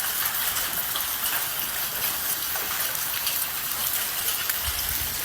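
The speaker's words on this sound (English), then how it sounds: "Yeah, it's raining rocks." Volcanic rocks and ash from Kīlauea on Hawaii's Big Island pattering down steadily like heavy rain onto nearby surfaces, a dense continuous hiss with scattered small impacts, no voices.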